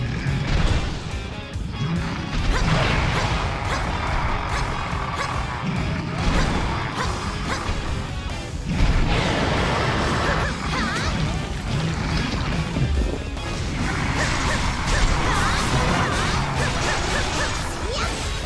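Combat hits from Hyrule Warriors Definitive Edition on Switch as an enemy's weak point is smashed, with dense, continuous crashing impacts and whooshes layered under game music and effects, with a voice talking over it.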